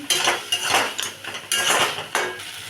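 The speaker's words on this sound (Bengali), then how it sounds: "এবার আমি বড়িগুলো দিয়ে দিলাম, নাড়াচাড়া করছি।" A metal spatula scrapes and clinks loudly against a pan while lentil dumplings (bori) are stirred into a bottle gourd and poppy seed dish, about five close, rhythmic strokes with no talking.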